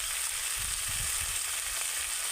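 Vegetables for shukto, already fried, sizzle steadily in a pan with oil as spice pastes are added, a continuous bright crackle with low thuds of ingredients dropping in.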